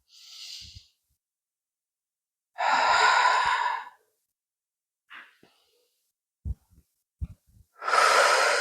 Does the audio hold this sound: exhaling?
yes